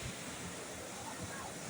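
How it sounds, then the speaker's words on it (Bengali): Sea waves rolling in and breaking on the shore at Digha, a steady close wash of surf with wind noise under it and no clear separate crashes. "আর পায়ের কাছে চলে আসছে, দেখো এই ঢেউটা।"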